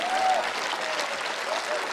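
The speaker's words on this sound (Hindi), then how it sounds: "तालियां कमजोर है आपकी।" Steady crowd applause fills a hall at a Hindi comedy poetry gathering (hasya kavi sammelan), dense and even from start to finish, with a faint whistle or tone briefly riding above the clapping near the start.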